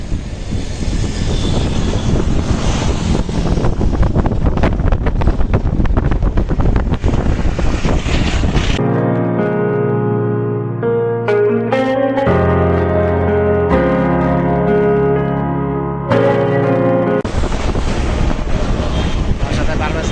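Strong wind buffets the microphone on Demra bridge above a river, roaring loudly for several seconds. A stretch of tonal music breaks in partway through before the wind returns.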